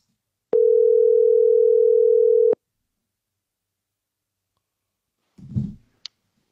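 A telephone call back produces one steady two-second ringback tone, followed by near silence and then a brief rustle and a faint click.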